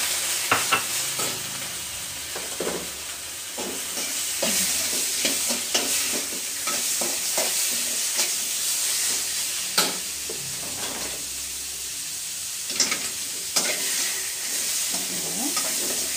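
Chicken fries with garlic in a hot pan and is stirred steadily with a utensil, giving a continuous loud sizzle broken by repeated scraping and clacking strokes. No one talks.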